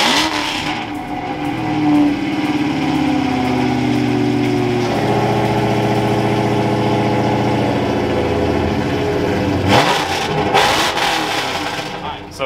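A 1971 Ford F100 pickup truck engine runs loud and close, a rough steady drone that climbs in pitch through the middle. It drops back and blips again near the end.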